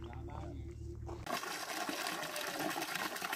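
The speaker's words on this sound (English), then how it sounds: "Look at this nice cold spring. Wouldn't it be nice if they were all like this, just pumping out?" Cold spring water gushes and pours out steadily at a creek along the Pacific Crest Trail, a loud rushing flow that bursts in suddenly after a quieter opening where a voice is heard.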